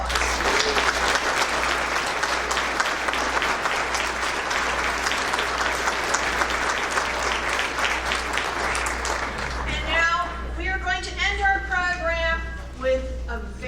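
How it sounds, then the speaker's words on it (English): Audience applause at a junior high school spring band concert rolls on steadily for about ten seconds, then gives way to a single speaking voice as the clapping dies down. "Let's give all of our performers another round of applause."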